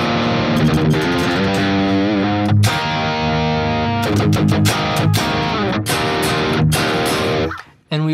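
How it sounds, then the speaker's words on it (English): Electric guitar played through a distorted amp with palm-muted chugging, a dense, loud riff with steady rhythmic attacks over about eight seconds, ending in a brief dropout. "And we also have a nice distortion for the palm muting."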